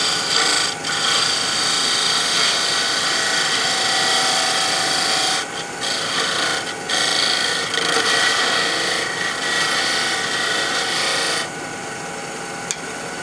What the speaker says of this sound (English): going to take the skew, fix a flat spot